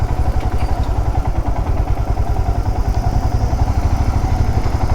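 KTM motorcycles run on an off-road trail, a close, loud engine chugging with a rapid, even pulse and some mechanical clatter, with no speech.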